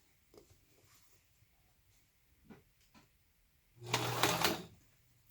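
A sewing machine stitches very close to the edge of a fabric zipper pouch in one short, loud burst of running stitches. It follows a few faint clicks in an otherwise quiet room.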